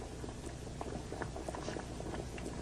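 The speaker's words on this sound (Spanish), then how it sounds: "El agua inmóvil se convierte en un líquido borboteante con el vapor saliendo del agua y del recipiente." Water boiling in a pot, a quiet, dense bubbling and popping that goes on steadily with no voices.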